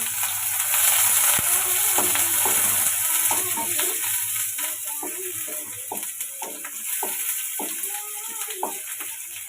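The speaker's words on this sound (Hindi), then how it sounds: "पियाज को भल जारी दबा।" Onions frying in a pan, a steady close sizzle throughout with irregular stirring scrapes and taps over it, no talk.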